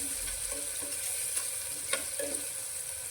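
Tomatoes sauté in oil for tempering dal, giving a steady, fairly faint frying sizzle with occasional light stirring clicks and no talking.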